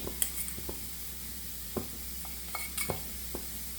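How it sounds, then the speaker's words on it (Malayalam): Chilli, pepper and coriander powders are stirred in a pan for a peanut curry over a low sizzle. Scattered scrapes and light clinks from the spoon against the pan sound close and faint. "എല്ലാം കൂടെ നല്ലപോലെ ഒന്ന് മിക്സ് ചെയ്ത് കൊടുക്കാം"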